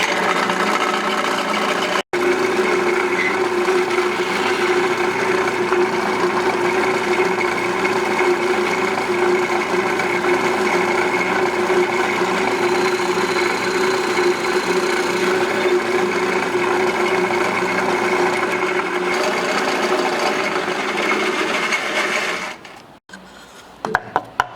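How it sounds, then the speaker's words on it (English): A drilling machine boring a hole through a phone stand part gives a steady, continuous whine and rumble for a long stretch, then cuts off near the end with a few clunks. "we're going to turn the machine on, drill the whole way down through"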